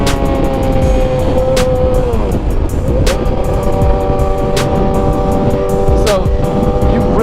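A 600cc motorcycle engine revving hard near the rev limit and launching, a loud continuous high-pitched whine with rising and falling pitch sweeps and steady mechanical buzz, close and without pause.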